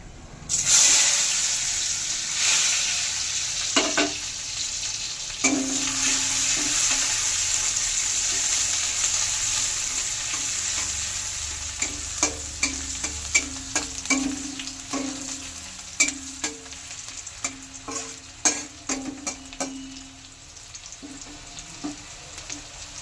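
Chopped onion hits hot oil already tempered with chili and cardamom, sizzling loudly at first and then settling into a steady fry, while a spoon repeatedly scrapes and stirs the pan in irregular knocks.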